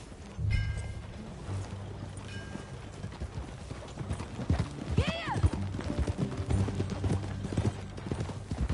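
Horse hooves clip-clop at a steady walking rhythm in Red Dead Redemption 2, with a single short whinny partway through and faint background game ambience.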